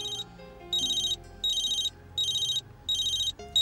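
A cell phone rings with a repeating electronic tone, sounding in steady bursts about half a second apart, moderately loud over a low background hum, with no speech.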